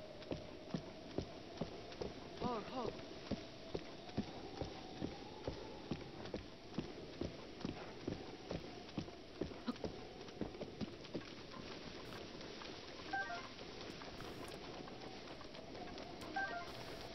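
Horse hooves clip-clop at a steady trot in Zelda: Breath of the Wild, a continuous run of evenly spaced thuds over a humming game soundscape, with a few faint chimes near the end.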